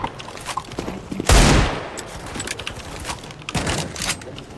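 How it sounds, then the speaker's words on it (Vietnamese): Opponents' gunfire in a video game deathmatch: rapid bursts of shots, one heavy close volley early on and another later, scattered cracks between, with no talk. "Ồ, đối thủ chúng ta bắn rất kinh."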